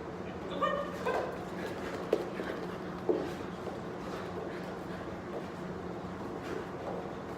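Dogs barking and whimpering during a body-block training session, with a few short yips and barks early on followed by fainter whines over a steady low background hum, moderately distant.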